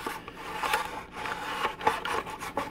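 Scraper rasping glue off a wooden 1:20 scale model hydroplane kit, a run of short close scraping strokes in an uneven rhythm, fairly quiet with no voices.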